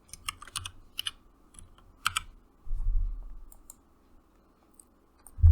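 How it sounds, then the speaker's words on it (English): Crisp keystrokes on a computer keyboard while renaming parts in writing software, arriving in short irregular bursts of close clicks with brief pauses, followed by a low thump near the end. "I can rename the parts by typing here"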